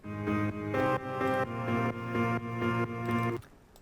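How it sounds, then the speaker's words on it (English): Bright grand piano chords from the stock Nexus Piano Power Grand synth preset, struck in a steady rhythmic pattern, full and close, ending abruptly with a short decay. "Nexus Piano Power Grand preset. Totally stock."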